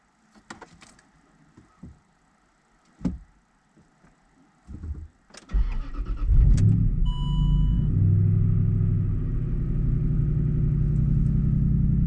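Land Rover Discovery 3 with a 4.4 V8 engine idling on a cold start, a steady low rumble that sets in after some brief clicks and knocks and carries on loud and even to the end.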